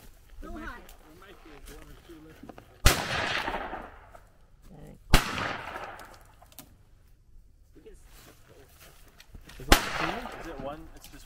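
Rifle shots at an outdoor shooting picnic: three sharp, loud cracks spaced a few seconds apart, each trailing a short echo, with people chatting in between.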